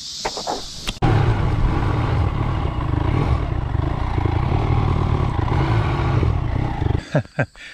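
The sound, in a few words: Royal Enfield Himalayan motorcycle riding off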